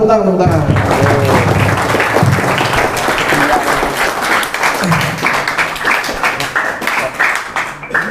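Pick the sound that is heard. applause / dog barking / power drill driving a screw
applause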